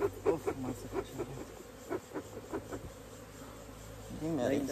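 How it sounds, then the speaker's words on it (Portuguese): Bees buzz around a hive as it is opened and handled with smoke, a steady insect drone broken by soft rhythmic thumps, with a louder swirl of buzzing near the end. "Vou tirar um pouquinho dessas abelhas aqui"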